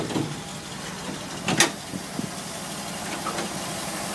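A 1970 Ford Bronco engine idles warm, a low, steady, fairly quiet rumble with a couple of faint clicks and knocks.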